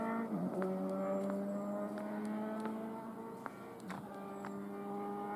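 Road traffic on the A27 drones steadily in the background, with a continuous engine hum and occasional passing vehicles rising and fading at a moderate distance.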